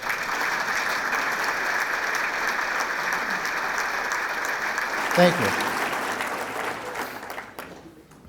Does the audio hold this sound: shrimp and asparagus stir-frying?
no